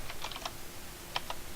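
Quick keystrokes on a computer keyboard during an accounting class problem session: a few light clicks in two short bursts, faint and close, with no talking.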